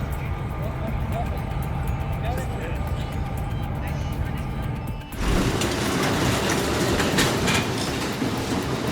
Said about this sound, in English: As the train entered the curve, the locomotive struck a track switch, causing a minor collision.